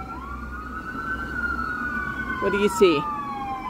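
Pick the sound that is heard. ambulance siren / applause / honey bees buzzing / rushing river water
ambulance siren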